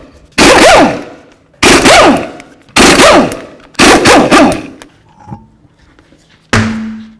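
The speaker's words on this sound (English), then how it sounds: "remove all 5 of our lug nuts and then remove the wheel" Impact wrench removing the front wheel lug nuts on a 2006-2012 Ford Fusion, four loud close rattling bursts in quick succession, then a brief light clink and a final short burst at the end.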